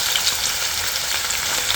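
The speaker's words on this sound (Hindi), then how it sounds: "और इनको फ्राई करना है। तो प्याज को भूनेंगे थोड़ा।" Chopped onions fry with cumin seeds and a bay leaf in hot oil, giving a steady, dense close-up sizzle that carries on evenly without any voices.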